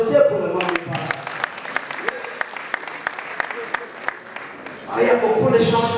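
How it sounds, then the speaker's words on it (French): Audience clapping at a French-language talk show, sharp individual claps in a loose rhythm, with voices talking over the start and the end. "Applaudissez pour le Mami"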